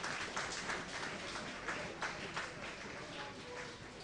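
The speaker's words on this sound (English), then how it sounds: "to the applause inside Aggborough Stadium." Applause spreads across a football crowd inside Aggborough Stadium as players take a knee before a Wolves U23s versus Birmingham City U23s match, a soft, continuous patter of many hands heard from a distance.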